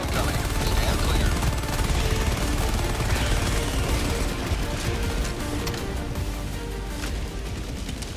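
Orbital barrage in an audio drama: dense, continuous gunfire and explosions fill the scene at close range, with voices and battle chatter mixed underneath.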